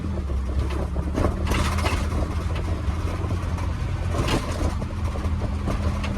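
A small engine revs hard and fast after a carburettor strip and rebuild, its automatic choke still fitted: a steady, loud, continuous roar with slight surges, close up and with no talking.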